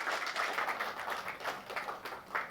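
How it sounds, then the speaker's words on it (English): Faint, scattered clapping from an audience in Bangalore welcoming a speaker onto the stage for a talk on executive presence, with individual claps and uneven bursts standing out rather than a full roar. "A big round of applause, please."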